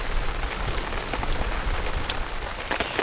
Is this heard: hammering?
no